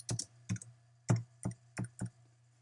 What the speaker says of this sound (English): We're going to go ahead and come over here and type in Mary Smith